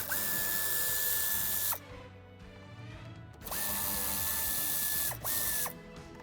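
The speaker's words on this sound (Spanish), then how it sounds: "Retiraremos los tornillos que sujetan esta parte inferior." Power screwdriver removing screws from the lower trim panel of a 2020 Audi A3 8V/8Y sedan, two sustained whirring bursts of a few seconds each with a short whine in between, close and clear, no talking.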